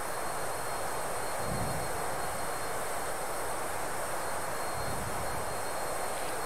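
A Learjet 35A engine in a flight simulator game plays through speakers as a steady broadband jet roar with a constant high whine. The level stays even and moderate throughout, with no talk.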